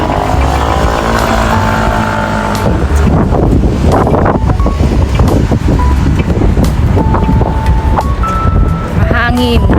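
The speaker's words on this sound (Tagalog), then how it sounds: "Mahangin, malamig." Strong, cold wind buffets the microphone with loud, continuous roaring gusts while walking outdoors, while traffic and a few faint beeps pass in the background.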